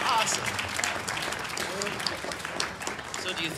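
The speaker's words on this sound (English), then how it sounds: "A huge round of applause." A choir concert audience claps steadily after "When the Saints Go Marching In," a dense burst of applause that holds its level for several seconds with a few voices mixed in.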